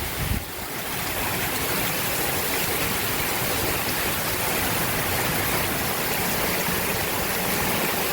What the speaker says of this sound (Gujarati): બનાસકાંઠામાં વરસાદ પડી રહ્યો છે